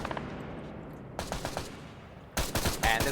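Bursts of automatic gunfire in the military game Arma 3, a rapid volley followed by louder, closer sustained shooting.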